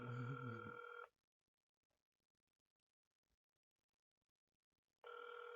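A loud electronic tone with stacked harmonics plays for about a second, cuts to near silence for four seconds, then the same tone returns.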